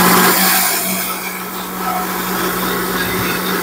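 A blender running off an EcoFlow River 2 portable power station in Kenya gives a steady, loud motor whir with a constant low hum for the whole stretch, alone without talk.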